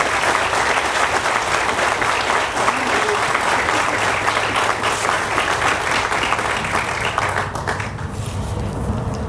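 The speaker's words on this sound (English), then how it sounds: "Let's give them all a rousing hand of applause." Sustained, loud applause from an outdoor audience at a highway interchange ribbon cutting ceremony, steady clapping filling the whole stretch.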